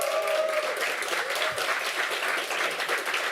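Crowd at an esports LAN event at the Esports Factory in Osnabrück, Germany, applauding and cheering in a dense, sustained roar of clapping with a few whoops rising over it, loud and steady throughout.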